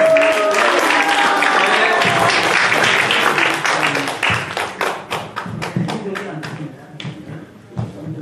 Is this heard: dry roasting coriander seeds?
no